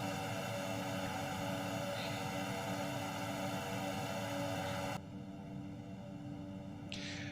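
Propeller drone of a C90 twin turboprop in X-Plane 11, a steady loud engine hum across the whole stretch that drops slightly in level near the end, with no talking.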